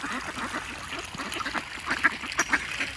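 Ducks quack repeatedly at a pond outdoors, a scatter of nasal calls at moderate distance with a few louder quacks standing out near the end against soft outdoor ambience.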